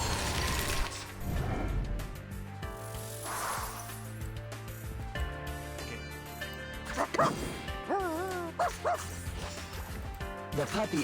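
A puppy barks in the video game Reverse: 1999, with short yips and small whimpers scattered through game music and mechanical effects.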